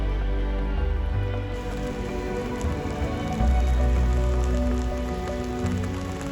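Steady rain falls on a rainy day outside Hibiya Public Hall in Tokyo, a continuous close hiss with soft low tones running underneath and no voices.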